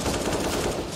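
Gunfire in a Counter-Strike match: a dense, rapid automatic burst, loud and close, filling the whole moment without pause.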